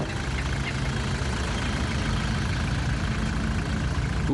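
A motor idles before a long journey, a quiet, steady low rumble with even texture and no voices.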